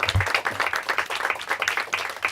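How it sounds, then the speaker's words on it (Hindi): A quiz-show audience claps for a team at a Hindi quiz final, a short burst of brisk, fairly close applause with rapid individual claps. "तालियां हो जाए इनके लिए।"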